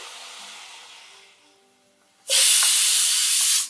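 A quiet hiss fades, then a sudden loud, steady sizzle erupts as water hits a hot pan of vegetables for sambar, hissing strongly before cutting off.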